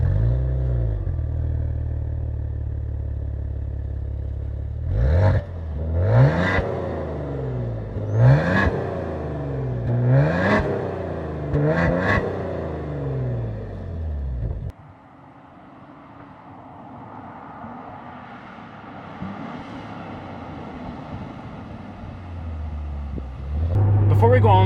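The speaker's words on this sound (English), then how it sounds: "get that mean, absolutely beautiful exhaust note that comes out of this thing." A 2014 Maserati Ghibli SQ4's deep exhaust revs sharply several times in quick bursts, loud and close, then settles to a lower rumble.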